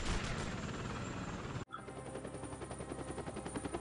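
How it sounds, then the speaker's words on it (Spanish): Battle helicopter and rapid gunfire in the Lego Batman video game: dense, loud machine-gun bursts with rotor drone, a sharp cut midway, then steady rhythmic firing pulses continuing. "Helicóptero de batalla de aquí."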